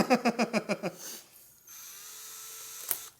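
A power drill whirs in about seven quick, rhythmic bursts, close and loud, then stops, leaving a quiet hum and a brief click near the end.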